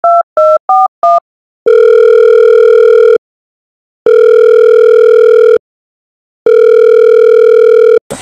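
Four short telephone tone bursts come first, then three long, loud, steady ringback tones with silent gaps between them, heard while a call is placed to a father.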